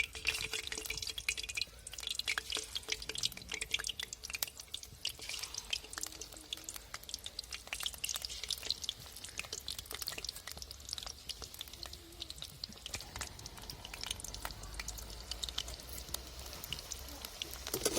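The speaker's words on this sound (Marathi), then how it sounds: "आपलं कारलं बघा मस्त असं फ्राय होऊ राहिलं" Bitter gourd (karela) slices coated in a spiced flour batter fry in hot oil, giving a steady, dense crackle and sizzle with fine dripping pops that carry on unbroken throughout.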